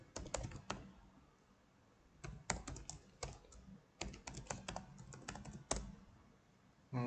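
Someone types an email address on a computer keyboard: quiet, close key clicks come in short, uneven bursts separated by brief pauses, with no speech.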